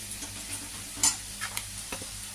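Onions that have turned reddish fry in a pan for a pabda fish curry, giving a fairly quiet sizzle over a low hum, with a few scattered spoon clicks and scrapes; no speech.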